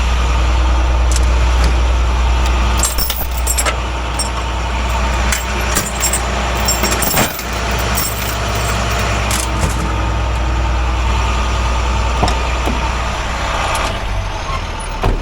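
A loaded box truck's engine idles steadily throughout, a loud continuous low rumble with occasional clanks and an air-brake-like hiss rising over it.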